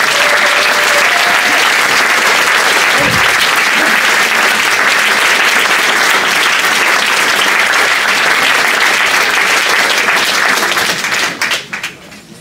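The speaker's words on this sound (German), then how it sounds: "mit einem ganz großen Applaus" Loud, sustained applause from a symposium audience at a foundation's 20th anniversary event, thick and even throughout, then tapering off in the final second or two.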